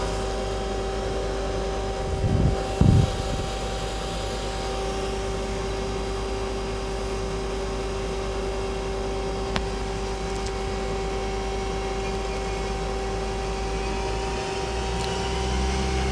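A 2010 Mazak Quick Turn Smart 200 lathe spindle spins at speed with a steady, droning tonal hum and a constant background whir, broken briefly by a couple of soft knocks.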